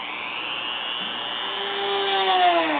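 A small drill whines steadily, its pitch sliding and rising slightly as it bores a hole into a carved wooden snowman ornament, loud and close with no talking.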